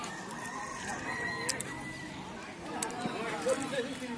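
Chickens and ducks at a rural Bangladeshi poultry market, with a rooster crowing and hens clucking among a busy outdoor crowd; people talk throughout and the bird calls come in short bursts.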